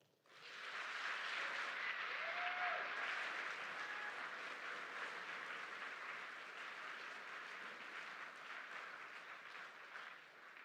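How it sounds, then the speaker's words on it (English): A graduation crowd at Fort Sill gives a sustained round of applause, a dense steady wash of clapping heard from a distance that slowly tapers off. "Please join me in a well-deserved round of applause for our graduates today."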